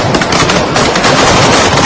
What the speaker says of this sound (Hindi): चेचन्य लड़ाके एक इमारत पर ताबड़तोड़ फायरिंग कर रहे हैं